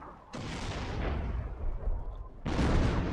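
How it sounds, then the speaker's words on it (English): Mortar and 25-pounder artillery fire in a video game, two heavy booming blasts with long rumbling tails, one at the start and one near the end. "There's probably a bit of a mortar duel going on right now"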